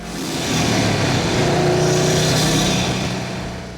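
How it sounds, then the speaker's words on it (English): Turbocharged Subaru WRX STI fitted with a Cobb SF intake and Cobb access port, its engine revving steadily and loudly, swelling and easing for several seconds with no talk. "installed a Cobb SF intake to really bring out those sweet turbo noises"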